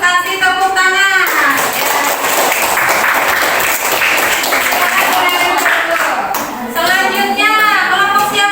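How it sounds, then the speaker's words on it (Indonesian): Children in a classroom clap for a group presentation, a dense burst of applause lasting several seconds between stretches of young voices talking. "Kasih tepuk tangan."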